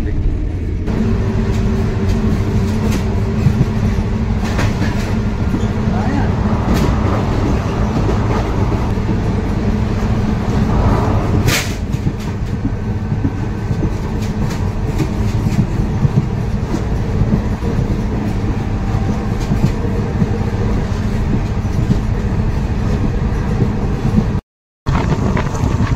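A passenger train on the Srinagar to Banihal line in Kashmir runs steadily from inside the carriage, a loud continuous low rumble and rolling wheel noise with a brief dropout near the end.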